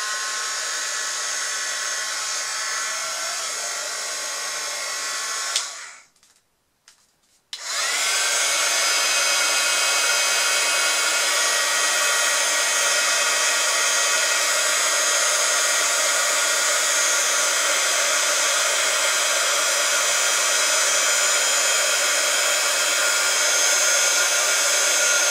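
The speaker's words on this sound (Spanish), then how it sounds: "le damos con el secador un poco" A hair dryer blows hot air onto resin in a heart-shaped mould for a mini seascape. Its loud, steady whir runs close up, cuts out briefly for a couple of seconds, then resumes and holds constant, with no talking.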